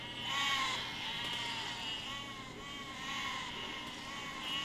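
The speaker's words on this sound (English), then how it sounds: "Sheep are dying somewhere." Sheep in the Besiege video game bleat in a steady, wavering chorus, several voices overlapping continuously at moderate loudness with no talk.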